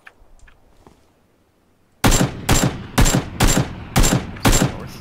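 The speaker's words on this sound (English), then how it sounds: "I'm shooting at him" Gunfire in the PUBG video game, opening with two seconds of near silence and faint clicks, then a loud close burst of about seven evenly spaced heavy shots with short echoing tails.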